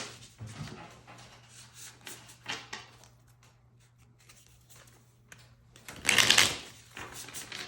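Soft riffling and tapping of a tarot advice deck being shuffled by hand, several quiet bursts over a faint hum, ending in one louder, sharper riffle.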